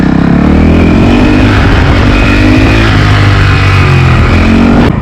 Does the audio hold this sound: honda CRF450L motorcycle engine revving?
yes